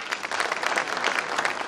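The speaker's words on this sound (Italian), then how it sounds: "questo è per te sindaco, un applauso." A festival audience at the 20th Antichi Suoni festival in Novi Velia applauds the mayor: dense, steady clapping from a large crowd, sustained at an even level throughout with no voices on top.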